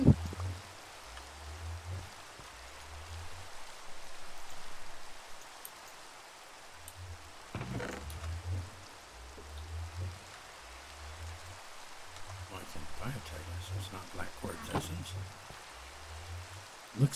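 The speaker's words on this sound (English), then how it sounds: "You think the rain will be helping my crops, right?" Steady rain hisses in the farming video game Crop Block, a soft continuous wash with low, rhythmic pulsing thumps and brief louder patters.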